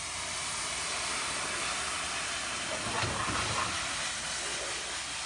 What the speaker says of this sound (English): It's just basically deglazing the pan with the wine.